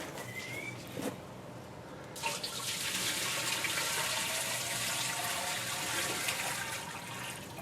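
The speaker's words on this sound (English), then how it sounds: "And I'll just top up with water." Water pours steadily into the hopper of a 1926 Ruston Hornsby engine, a continuous splashing gush that starts after a brief quiet moment with a couple of small knocks.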